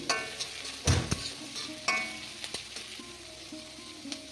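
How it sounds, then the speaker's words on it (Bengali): Cumin seeds and chopped onion frying in mustard oil in a hot wok, a steady close sizzle broken by a few sharp clinks of a spatula against the metal, with no voices. "একটা গরম কড়াইতে সর্ষের তেল দিয়ে তার মধ্যে গোটা জিরা আর একটা পেঁয়াজ কুচি করে দিয়ে দিয়েছি।"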